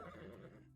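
A horse neighs in the fantasy video game Enchanted by Nature, a short, close whinny lasting under a second that fades at the end, quiet and with no talking over it.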